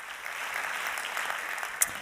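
Audience applause for a speaker called onto the stage at a retail and e-commerce conference opening, dense steady clapping from a crowd with one sharper clap near the end.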